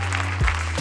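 Applause from an audience at a real estate event in Nîmes, a brief, moderately quiet patter of clapping from a small crowd lasting under a second.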